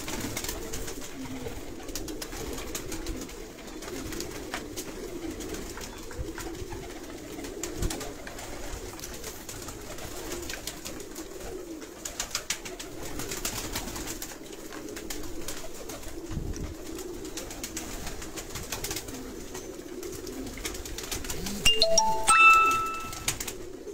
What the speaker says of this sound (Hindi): और काफ़ी नस्लें हैं पुराने कबूतरों की।